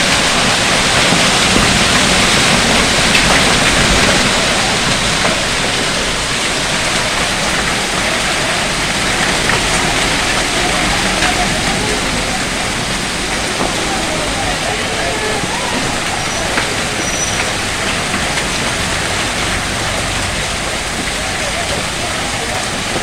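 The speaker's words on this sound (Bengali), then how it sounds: "প্রচন্ড ভারী বৃষ্টি হচ্ছে" Heavy rain with hail pounding down outside a shop in Dhaka, a loud continuous roar of water and pelting that fills the whole stretch, with voices faintly under it.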